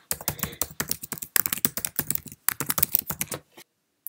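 Rapid typing on a Mac computer keyboard produces dense clusters of close, crisp key clicks in quick bursts with short pauses as a username is entered, ending in a moment of silence.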